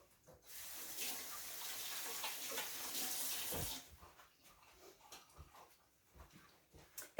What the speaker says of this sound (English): Just going to rinse my hands quick.